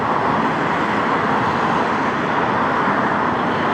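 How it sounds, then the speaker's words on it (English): Steady street traffic rolls along an avenue in Kyiv, a dense, continuous roar of passing cars, buses and trucks that stays loud and close throughout, with no voices. "Can you guys hear me okay with the traffic?"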